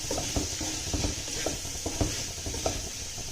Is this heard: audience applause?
no